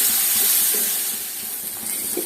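Onions sauté in a pan with crushed ginger, garlic and green chilies, giving a soft, steady sizzle and hiss with faint stirring sounds, quiet and close.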